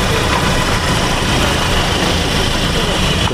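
A 2008 Porter truck's engine idles nearby, a loud, steady low rumble with a constant mechanical hum throughout and no speech over it.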